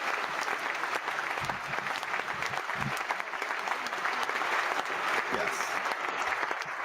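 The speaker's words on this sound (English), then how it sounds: "a round of applause because we have Gina" An audience claps steadily to welcome a guest on a home-products talk show, a continuous moderate patter of many hands lasting the whole stretch.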